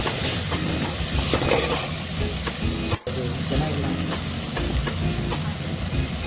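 Tomatoes and onions frying in a pan for Bombay saagu give a steady close sizzle, with stirring scrapes throughout and a brief cut near the middle.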